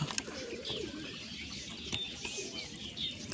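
A young pigeon stuck inside a box coos and chirps faintly, muffled and steady, with soft rustling and no voices.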